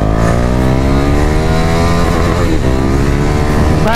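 A Bajaj Pulsar motorcycle ridden close by, its engine droning loud and steady with a strong rising and falling buzz and no talk.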